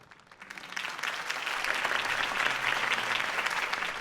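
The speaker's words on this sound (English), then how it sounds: "If only Mr. Wayne, my campaign's largest backer, could have heard that applause" Crowd in a video game cheering and clapping after a mayoral campaign speech, swelling from quiet into a sustained wave of applause that holds steady and fairly loud.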